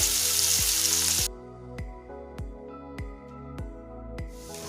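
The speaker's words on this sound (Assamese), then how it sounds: "তেলখিনি গৰম হৈছে। এতিয়া মই মিহিকৈ কাটি লোৱা পিঁয়াজ দিছোঁ অলপ।" Finely chopped onion hits hot oil for an egg curry, giving a loud, bright sizzle at first that quickly drops to a softer, steady frying hiss with a few sharp clicks and pops.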